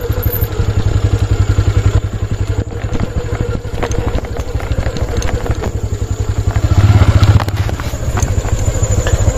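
A motorcycle rides along a mountain road, its engine thrumming in a steady, close rhythm with clattering and thumps from the bike, surging louder briefly near the end.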